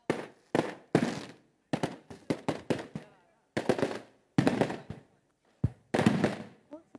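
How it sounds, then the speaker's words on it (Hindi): Loud, sharp New Year celebration fireworks and firecrackers crackle in irregular bursts and rapid strings, some single bangs, with short quiet gaps between them. "आतिशबाजी की जा रही है"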